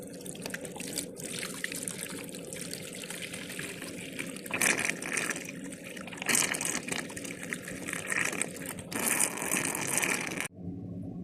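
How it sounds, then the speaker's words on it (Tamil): Water poured into the tank of a new GAC9433 air cooler, a steady trickling and gushing stream close by that runs for about ten seconds, briefly louder midway and near the end before stopping abruptly. "இப்போது நான் தண்ணி ஆட் பண்ண போகிறேன்"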